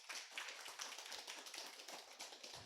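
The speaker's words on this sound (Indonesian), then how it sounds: "Tepuk tangan buat kita semuanya." Audience clapping at the opening ceremony of an automotive, motorcycle and multimedia training course, a faint, distant patter of many hands throughout.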